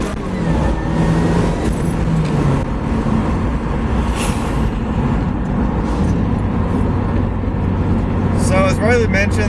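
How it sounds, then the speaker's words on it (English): A supercharged Mazda Miata accelerates hard through its gears from a roll, with a loud, continuous engine drone heard from inside the car and a voice speaking over it. "Let's show you how to properly bang gears in a boosted Miata."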